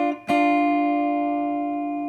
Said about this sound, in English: String 2 and string 3,